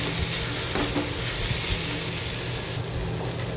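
Tomato bhaji with salt and sugar being stirred in a pan, a dense, even sizzle heard close up with soft scraping strokes running through it.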